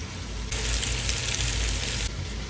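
Onions and garlic sizzle loudly in a hot stew pot for beef stew, a steady close frying hiss that swells sharply after a moment and then settles back, with no talking.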